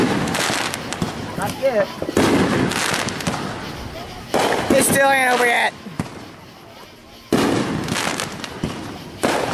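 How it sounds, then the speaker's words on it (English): Fourth of July fireworks going off in loud repeated bursts of booms and crackles, with whistling rockets in between and a person talking briefly in the pauses. "They must have bought a lot of good fireworks this year."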